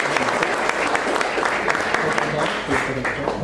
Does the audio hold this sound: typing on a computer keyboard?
no